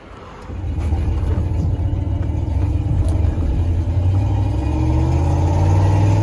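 A 1999 Dodge Ram engine with its TPS sensor unplugged runs close by, with a deep, steady rumble that rises as it settles into a rough, uneven idle and stays loud.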